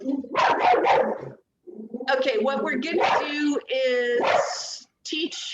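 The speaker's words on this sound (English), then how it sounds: "that's my dog" Pet dog barking indoors in a home, a burst of several sharp yips and barks in quick succession, loud and close, with a person talking over and between the barks.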